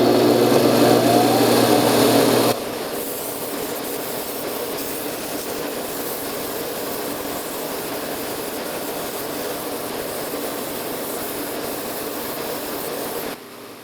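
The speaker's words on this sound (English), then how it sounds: "I'm going to go ahead and turn this on. I'm sanding at a higher speed because that gives it a better finish." A wood lathe spins at high speed while a bog oak pen blank is sanded, giving a steady whirring hum with a louder grinding rasp for the first two seconds, then a constant motor drone until it cuts off.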